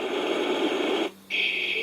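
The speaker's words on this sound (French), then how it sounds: "bruit blanc" A SOAIY multicolour LED ambience lamp plays white noise from its little speaker as a constant, even hiss that drops out briefly and then resumes with a brighter, thinner tone.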